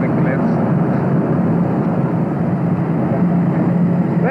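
A jet plane flying near the cliffs of a gannet colony produces a loud, steady, unbroken engine roar that fills the whole stretch, with talk running over it.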